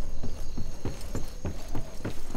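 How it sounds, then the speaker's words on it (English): Rapid footsteps thud in a steady, regular rhythm in the online shooter Ironsight, close and prominent over a noisy game background. "Oh, I hear footsteps."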